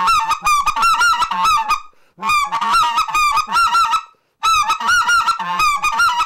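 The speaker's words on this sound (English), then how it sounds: "that scratch in all of your calling like that makes it sound like a goose" A goose call blown in three rapid bursts of honking notes with scratchy breaks and high squeals, loud and close, separated by short silences.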